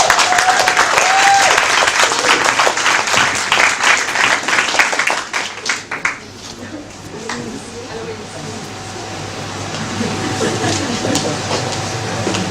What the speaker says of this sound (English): please give a big round of applause for Lynn Stein